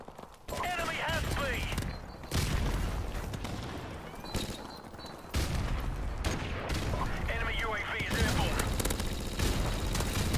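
Rapid automatic P90 gunfire in a video game, dense bursts repeating across the clip with booming impacts, with people talking over the shooting.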